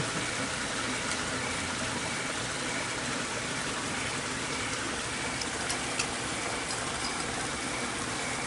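A very small backyard creek flowing into a pond, a steady, even rush and trickle of water heard close by with no voices.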